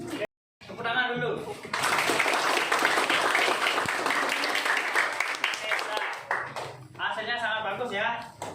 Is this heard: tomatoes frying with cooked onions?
no